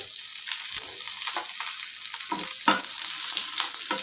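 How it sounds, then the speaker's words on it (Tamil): Garlic sizzles in hot oil in a pan for a cabbage stir-fry, a steady close crackle and hiss with occasional stirring knocks. "பூண்டு போடுங்க."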